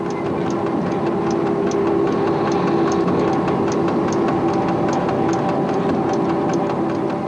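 Rail noise inside the cab of French locomotive CC 6524 approaching Limoges, a loud steady engine and running drone with regular clickety-clack beats from the wheels over rail joints, no talk.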